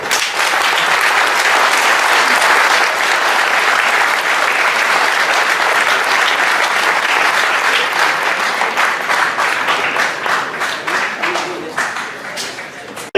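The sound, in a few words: applause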